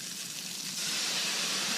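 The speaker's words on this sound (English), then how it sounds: "what you're gonna do is turn down just a bit. And you're gonna add" Water poured into a hot pan of browned food sets off a sudden burst of steady, bright sizzling hiss that swells and holds, with no talking over it.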